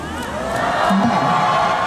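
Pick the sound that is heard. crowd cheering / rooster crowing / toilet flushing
crowd cheering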